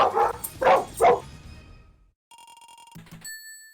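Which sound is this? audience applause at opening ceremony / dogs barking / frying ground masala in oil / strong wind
dogs barking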